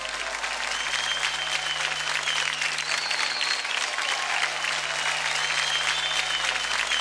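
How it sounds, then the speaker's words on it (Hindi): A studio audience at a televised children's dance competition bursts into loud, sustained applause for a contestant, thick continuous clapping with a faint crowd murmur underneath. "एक बार जोरदार तालियां हो जाए ऋतुराज के लिए"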